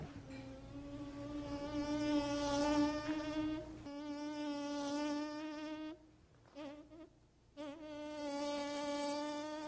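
A human voice imitates a mosquito with a sustained, whining nasal buzz that holds steady, briefly breaks up and wavers, then resumes, loud and close.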